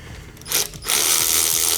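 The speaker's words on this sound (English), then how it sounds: "you can break bolts free up to 100 foot-pounds with one of these too, so you can actually use them as a normal ratchet" A ratchet wrench breaking bolts free on a junkyard Toyota 2JZ engine for a Supra, heard as a short burst of loud mechanical clicking and whirring up close, then a sustained louder buzzing drive.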